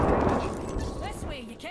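A grenade goes off in the Apex Legends shooter game, a loud, sustained blast that rumbles on and fades over a couple of seconds while character voices chatter over it.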